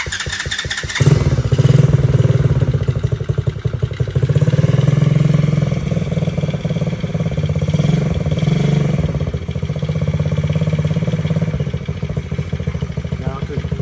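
A QG213A dirt bike engine cranks and catches at about one second, then settles into a steady, loud, close idle that runs through to the end, with a slight lift in revs midway.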